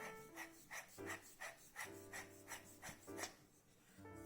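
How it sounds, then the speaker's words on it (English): Grooved body section of a Vega ECO lightsaber hilt being unscrewed from the hilt, a close, soft rhythmic rasping of threads turning in repeated short strokes, about a dozen in quick succession. "So screwing the body off."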